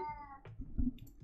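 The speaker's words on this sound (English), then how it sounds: "Had to tell off my cat." Pet cat meowing indoors, a single drawn-out meow near the microphone, followed by faint soft rustling and small low thumps.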